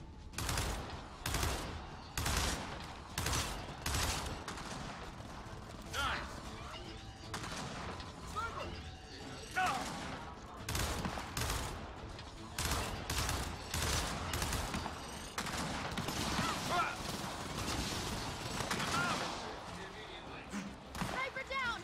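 Rapid bursts of laser weapon fire during a Gears of War 4 co-op campaign battle, loud and close, repeating in volleys with echoing impacts throughout, with voices heard in the mix.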